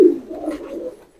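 A Deobandi pigeon gives a single short, low, throaty coo up close, loud at the start and trailing off softly, with no talking over it.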